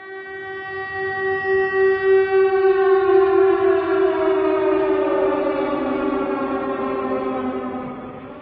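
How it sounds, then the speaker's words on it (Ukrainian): A loud air raid siren wails with a long sustained tone that slowly sags in pitch, pulsing slightly as it starts up. "Про повітряну тривогу нас сповіщає ось такий звук."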